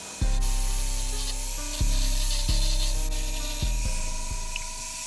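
An angle grinder works on a cracked car rim from a Charger whose tire exploded, in bursts of loud harsh grinding that start abruptly several times and ease off between, with no talking.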